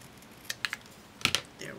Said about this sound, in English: I'm going to grab my scissors.